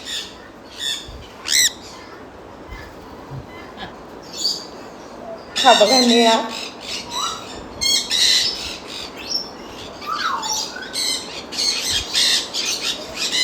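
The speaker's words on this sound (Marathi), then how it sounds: "खूप सुंदर आवाज काढतात हे पक्षी." Colorful caged birds in an aviary squawk and call in loud, harsh bursts and shrill chirps, some very near, scattered irregularly throughout, while someone speaks briefly over them.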